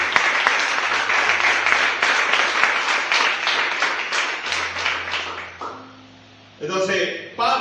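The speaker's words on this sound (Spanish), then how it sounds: "Den un aplauso a Cristo." Church congregation applauding for several seconds, dense clapping that fades out near the end before a fresh burst returns; a voice speaks over it.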